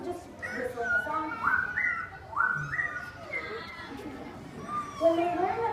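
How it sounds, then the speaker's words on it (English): A melodic whistled tune rises and falls in short phrases, with a speaking voice and light background chatter mixed in. "this ghost was just whistling a song"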